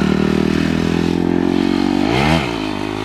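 A new dirt bike engine runs loud and steady close by, then revs up sharply near the end before easing off to a lower drone.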